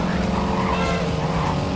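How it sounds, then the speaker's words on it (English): A car's engine in the Need for Speed Carbon racing game hums with a steady, even drone. It is loud and continuous throughout, with no talk over it. "Oh, this car is so sexy. I just love the way it purrs, man."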